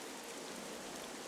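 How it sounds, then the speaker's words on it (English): Rain falls on Windfall Island in The Legend of Zelda: The Wind Waker HD, a dense, even hiss of raindrops with no other sounds. "this place suffers under dark clouds and rain"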